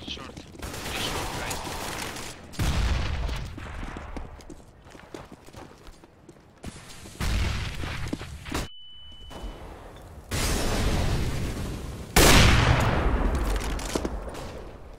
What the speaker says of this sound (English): Throwing flashbang. Deploying flashbang. Throwing. Fire in the hole. Flashbang.